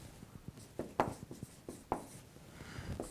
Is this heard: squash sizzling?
no